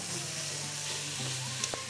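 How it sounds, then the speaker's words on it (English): Minced beef frying in a pan for lasagna, a steady soft sizzle with faint stirring scrapes, heard close and unbroken over a brief moment. "stir it nicely to make sure that everything is evenly cooked"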